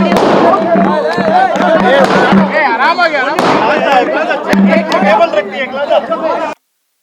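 Rapid crackling bursts of firecrackers pop repeatedly amid loud crowd chatter and shouting, dense and close, stopping suddenly at the end.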